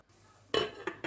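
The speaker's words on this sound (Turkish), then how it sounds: "Ve ocağın üzerine alıyorum." A cooking pot holding pumpkin and 120 grams of sugar is set onto a stovetop, giving a sharp metallic clank followed by two smaller clinks after a quiet start.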